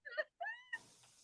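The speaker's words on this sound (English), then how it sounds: "yeah, that's my cat." A pet cat gives two close, plaintive meows in quick succession, the second rising and drawn out, followed by a soft hissy rustle.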